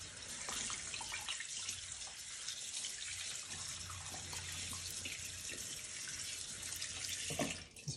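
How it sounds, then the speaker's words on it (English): A red snapper is rinsed under a running kitchen tap, giving a steady, close hiss of flowing water with a faint splash and no talk. "Let me rinse it off a little bit."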